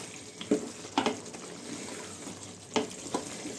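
Fried potatoes sizzling in a pot of Hyderabadi chicken aloo pulao, a low steady fry broken by a few louder stirring scrapes and clatters, close and quiet with no voices.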